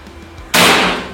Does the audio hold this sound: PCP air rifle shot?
yes